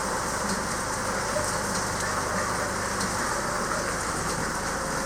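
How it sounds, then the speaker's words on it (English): Steady heavy rain falling during a typhoon, a dense unbroken hiss of drops on surfaces outdoors near shaded plants, constant and loud throughout with no voices. "But it's raining"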